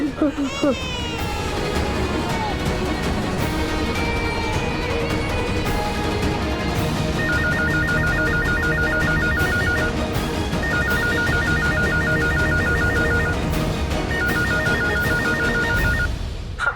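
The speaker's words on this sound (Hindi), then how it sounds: "मैं सूरज को ऑफिस में फोन करता हूँ।" A telephone rings in repeated short bursts over a busy background of music and voices, the ring pattern recurring several times.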